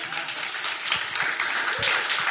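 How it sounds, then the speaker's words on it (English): A room full of listeners gives a sustained round of applause for the speakers at the close of a climate change event, steady and full throughout with a few voices murmuring underneath. "a big round of applause for our speakers here"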